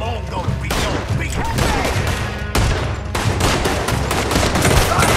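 Heavy, sustained gunfire from many weapons fills a shootout in the video game Red Dead Redemption 2. The dense, overlapping rapid shots and booms play loud and continuous throughout.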